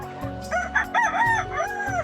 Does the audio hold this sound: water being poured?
no